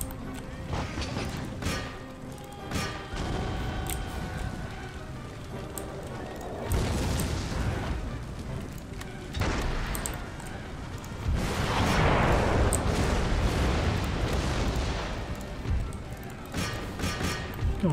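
Musket volleys from massed infantry in Empire: Total War, Russian army, crackle and boom in repeated bursts over a dense battlefield din, with someone talking over the fighting.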